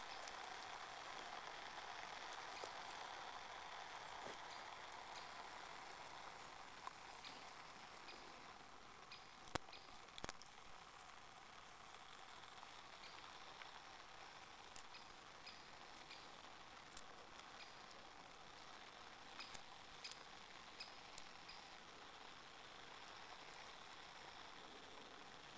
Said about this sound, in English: Okay, there we have it, a rolling boil.